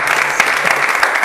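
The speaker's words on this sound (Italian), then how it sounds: "adesso l'applauso più bello lo devi fare Massimo" A studio audience on a football television show applauds a player, with brief, dense, close clapping at full volume.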